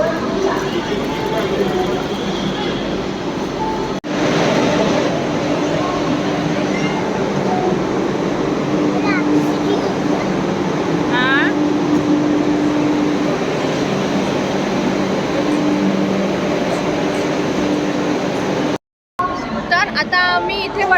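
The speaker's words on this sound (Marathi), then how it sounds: "आणि आता आम्ही पोचलेलो आहोत पुण्या स्टेशनला आणि हे आहे पुणे रेल्वे स्टेशन" A busy platform at Pune railway station, India, hums with crowd chatter, rumbling train noise and occasional squeals, steady throughout with a brief dropout near the end.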